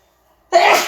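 After a moment of near silence, a person lets out a single loud, close sneeze that trails off quickly.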